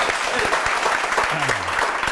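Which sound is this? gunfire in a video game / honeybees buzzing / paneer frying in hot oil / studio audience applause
studio audience applause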